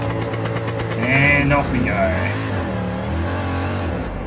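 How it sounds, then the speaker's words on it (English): A race car engine in Gran Turismo 7 revs and climbs in pitch at the launch, a loud mid-range drone that swells then settles, with someone talking over it. "Oh, the rev of this engine, man, the revs"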